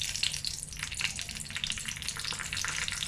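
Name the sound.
mustard seeds and urad dal spluttering in hot oil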